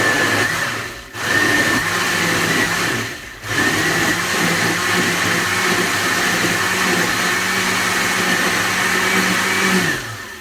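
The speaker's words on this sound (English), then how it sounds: "and basically blend" Kitchen blender pureeing a low-calorie soup with the lid locked on, a steady loud motor whir running almost continuously, with two brief dips in pitch and load before settling into a sustained drone.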